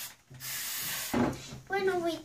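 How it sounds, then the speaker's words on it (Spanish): Hairspray hisses onto a cardboard Moon-phases model in a close, steady spray burst lasting about a second. A second hiss follows, then a voice begins speaking over it. "yo voy a usar spray para el cabello"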